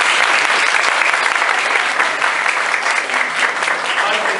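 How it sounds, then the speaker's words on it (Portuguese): An audience at an evening lecture gives a priest a round of applause, a dense, sustained wash of many hands clapping at a steady loud level with no pause. "uma salva de palmas para ele."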